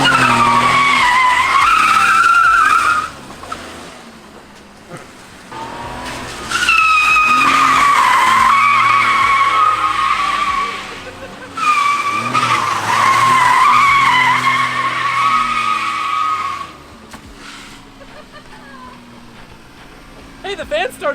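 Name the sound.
Kei truck with welded differential sliding, tires skidding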